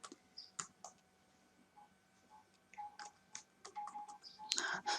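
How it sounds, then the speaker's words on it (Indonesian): A password goes in on a computer keyboard as an account is created: irregular soft key clicks, quiet and close, with a few louder taps bunching toward the end and no talking. "Ya, coba kita ketik."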